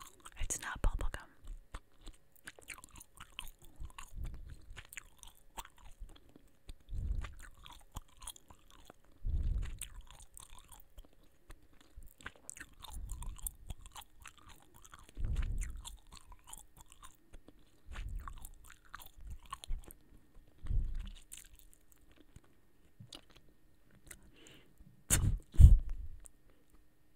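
Cup O' Noodles Mexican gum is chewed right up close in slow, wet, rhythmic bursts with soft whispering between them, ending in a sharp snap.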